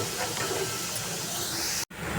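Carrots sautéing in oil make a continuous sizzling hiss close by. The sound cuts out for a moment near the end, then resumes.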